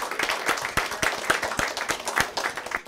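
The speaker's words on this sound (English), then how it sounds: "Another applause for you great men." A crowd at a talk on UFO secrecy and government gives a short burst of applause, a dense patter of many hands clapping at moderate loudness.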